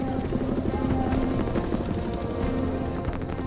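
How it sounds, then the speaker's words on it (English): Helicopter flying over jungle in wartime, a steady, loud rotor drone with a continuous engine hum and faint rhythmic chop throughout, no voices. "The British pioneer the use of helicopters in jungle warfare."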